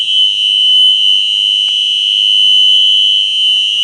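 UMMT outdoor warning siren sounding as a loud, steady, high-pitched tone that holds constant without wavering, heard from nearby with nothing else over it.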